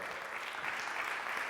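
Loud, steady audience applause fills a youth gala stage show, a dense wash of clapping from a large crowd that holds at an even level throughout.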